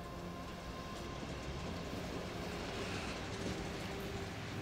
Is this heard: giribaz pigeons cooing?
no